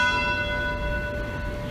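A temple bell rings with a loud, sustained metallic tone and shimmering overtones that slowly fade, heard on its own.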